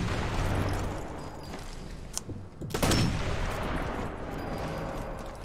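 Sniper Elite 4 video game gunfire on San Celini Island: a few sharp rifle shots ring out over a rumbling background, one louder blast near the middle.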